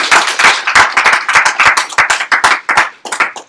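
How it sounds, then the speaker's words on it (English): Close, loud clapping from students in a lecture hall during an introductory lecture on fundamentals and binary search, a dense run of sharp hand claps that thins out toward the end, with no speech. "everyone give him a round of applause for volunteering"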